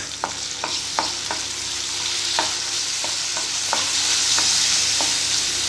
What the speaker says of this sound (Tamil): அதையும் இதில் நல்லா வதக்கிக்கலாம்